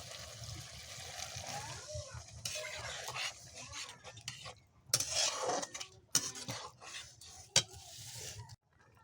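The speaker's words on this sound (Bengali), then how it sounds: "নারকেলের দুধ দিয়ে দেবো কিছুটা, দিয়ে কষিয়ে নেব" Prawn curry with coconut milk being stirred in a pan, a spoon scraping and clinking against the metal amid soft bubbling and trickling liquid, quiet and close with uneven bursts of stirring.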